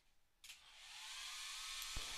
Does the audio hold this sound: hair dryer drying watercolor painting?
yes